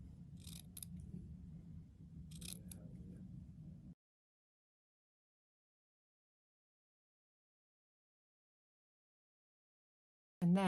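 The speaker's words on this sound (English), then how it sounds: "cut into it in little snips" Scissors make a few sharp, close snips through felt while cutting a poppy flower, heard over a low hum, followed by a long stretch of silence and a brief sound at the end.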